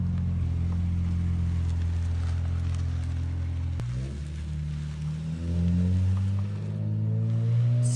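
A Nissan 350Z fitted with new headers drives down a street, engine droning loudly with a gear change midway and then revving up again as it accelerates away.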